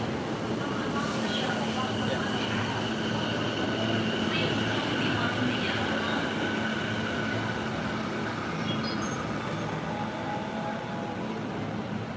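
A train runs along a rail line in Japan, a steady close rumble of wheels on track with faint squeals and clatter, continuous throughout with a voice talking underneath.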